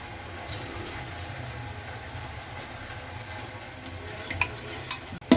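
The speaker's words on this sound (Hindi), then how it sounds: "अब इसमें हम डालने जा रहे हैं दही, जो बिरयानी मसाला हमने मिक्स किया हुआ था इसमें।" Yogurt is stirred into frying biryani masala with softened tomatoes over low heat, making a quiet, muffled scraping and soft sizzle with low rumbling, then a few sharper utensil clinks near the end.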